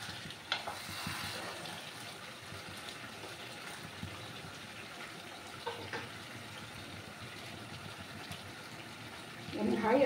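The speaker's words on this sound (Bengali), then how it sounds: "আমি হাই আছে কিছুক্ষণ চিকেনটাকে কষিয়ে নেব, ঠিক আছে। আর মাঝে মাঝে নাড়াচাড়া করে দেব।" Chicken being sautéed for kosha in a pan over high heat, with a soft continuous sizzle and occasional scraping stirs, fairly quiet throughout and louder toward the end.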